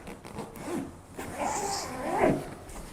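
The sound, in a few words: zipper on a bag being opened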